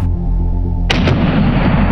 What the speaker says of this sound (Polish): Dla pewności strzelę jeszcze raz z 9 mm z pistoletu